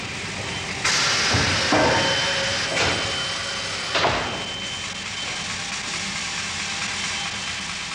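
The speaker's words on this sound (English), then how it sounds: "Look at the saw cutting through the wood." A sawmill saw cuts through wood into planks with a loud, continuous rasping roar, punctuated by a few abrupt knocks and surges as the blade bites.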